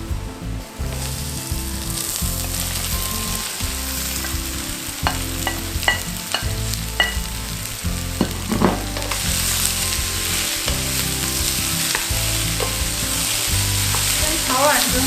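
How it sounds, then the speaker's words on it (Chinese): Potatoes, cauliflower, celery and carrots stir-fry in a pan, giving a steady close sizzle with repeated scraping and clinking of a spatula and a low rhythmic rumble beneath, no speech. "我们就把马铃薯、白花椰菜、芹菜跟红萝卜也放下去，把它炒软"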